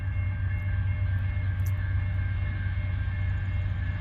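CN freight train led by AC44C6M locomotives hauling empty sand cars, a steady low rumble and drone of rolling cars at moderate distance, with no talk over it.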